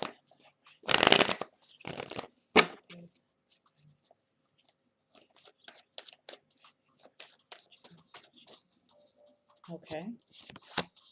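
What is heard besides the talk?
shuffling Gilded Tarot and Egyptian Lenormand cards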